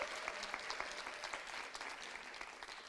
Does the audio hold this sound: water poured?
no